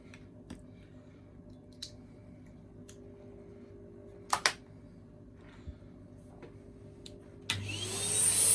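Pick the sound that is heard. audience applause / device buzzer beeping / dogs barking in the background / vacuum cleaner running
vacuum cleaner running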